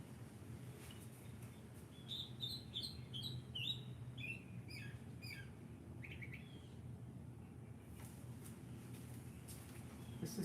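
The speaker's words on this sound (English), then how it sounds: "You can hear the birds." Small birds chirp and twitter in quick bursts outdoors, heard faintly through open doors over a steady low room hum, with the calls clustered in the middle and trailing off.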